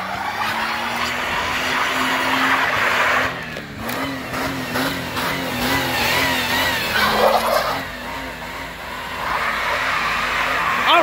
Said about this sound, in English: I went from one wrong side of the burnout to the other.